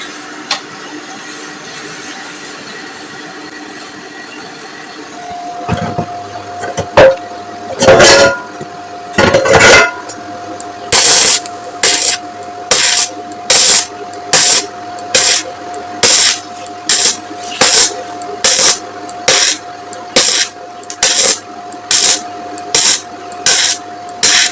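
An MMA welding machine lays down a weld in short, evenly spaced crackling bursts after a few irregular starts, with a steady electrical hum running beneath, loud and close.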